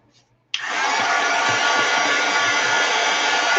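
A hair dryer switches on abruptly and blows in a loud, steady close-up roar over wet gouache paint on a mixed-media collage, with a faint low knock or two underneath.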